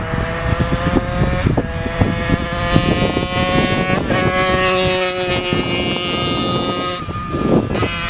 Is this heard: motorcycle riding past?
yes